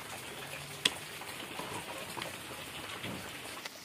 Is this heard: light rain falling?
yes